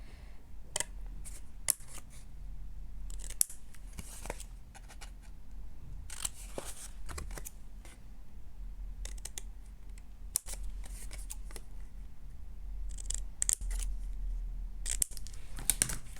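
Paper being cut and bevelled with scissors while making a matchbox, a series of short, crisp snips and rustles close by, with quiet handling sounds between cuts.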